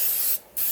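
Two short hissing bursts of cooking spray aimed at a muffin pan, close and steady, separated by a brief gap.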